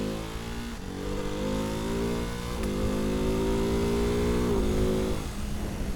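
A Ducati Hypermotard 698 Mono motorcycle engine pulls hard under acceleration, its loud, steady drone climbing in pitch through several gear changes, heard close and alone.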